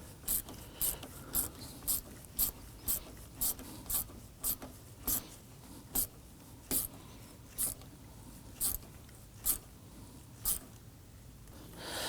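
A ratchet snugs down a fastener on a Nissan Murano AC condenser, giving a quiet run of about twenty evenly spaced clicks that slow slightly toward the end, with no talk.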